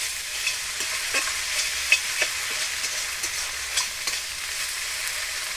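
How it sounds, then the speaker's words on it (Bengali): Spices fry and are stirred in a pan over a clay stove, a steady close sizzle broken by scraping stir strokes, with no talking. "মশলা ভাজা হয়ে গেছে।"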